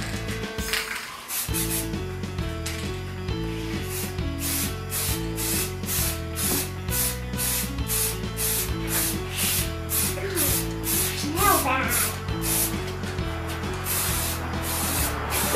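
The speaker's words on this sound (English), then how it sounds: "You just spray it on there. A light coat." An aerosol can of clear coat hisses in a series of short, rhythmic bursts, close and steady, sprayed lightly onto a Sintra board, over a faint background of music.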